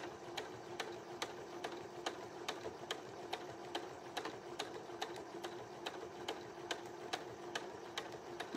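A sewing machine stitches back along a scrunchie seam, running steadily with an even, rapid needle tick throughout at moderate closeness, no voices present.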